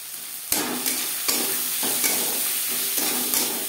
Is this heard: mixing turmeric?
yes